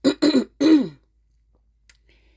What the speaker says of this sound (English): But I'm also coughing.